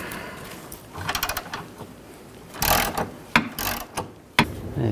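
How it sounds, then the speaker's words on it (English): A 14mm wrench loosens the nut on a rear sway bar link of a 2007-11 Honda CR-V, giving close metallic ratcheting clicks in short bursts with sharper clanks of the tool against the part. "to take the nut off, use a 14mm wrench"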